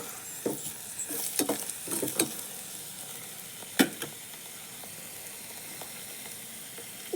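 Hot oil sizzles steadily in a frying pan up close, with a continuous hiss broken by irregular popping splatters, most frequent early on and then thinning out.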